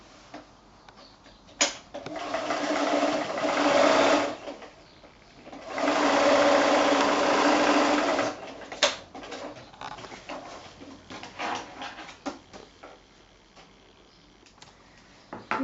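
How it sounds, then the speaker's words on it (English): A sewing machine stitches a quilting fat-quarter pocket bag close to the edge, running in two steady bursts with a pause between them, followed by quieter handling clicks and rustles. "I'm actually just going to sew mine on the machine"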